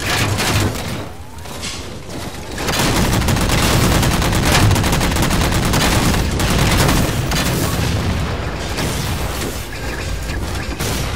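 Dense, continuous gunfire from the Halo 4 video game, with overlapping bursts and booming blasts that swell louder midway and keep up almost unbroken for the full stretch.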